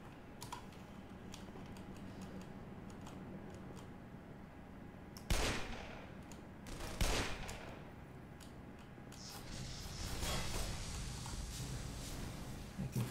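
Gunfire in the game Black Mesa: a few sharp, loud shots stand out around the middle, set against a steady game ambience with a denser burst of noise near the end.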